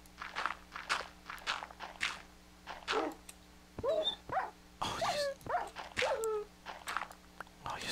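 Minecraft dog barking and yipping repeatedly with short whines, mixed with rhythmic in-game footsteps, fairly close and moderately loud.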